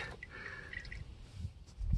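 Transmission fluid from a 1997–2001 Honda CR-V dripping into a drain pan, a quiet, close trickle with soft, scattered drips, followed by a low thud at the end.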